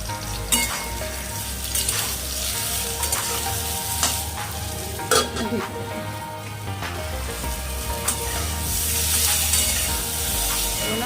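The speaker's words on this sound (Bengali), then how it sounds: "হালকা একটু ভাজা হলে" Brinjal, green chillies and five-spice seeds sizzle and crackle steadily in hot oil for a mixed vegetable curry, with occasional scraping stirs and taps of a utensil against the pan.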